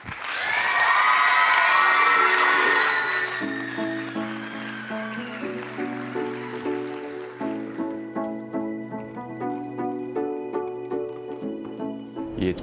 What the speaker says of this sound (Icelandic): Gefum Pétri Ívari gott klapp.